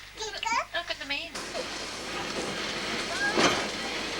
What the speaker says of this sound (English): Leaving behind Palmerston and soon the sunshine, the train heads south again for the run to Dunedin.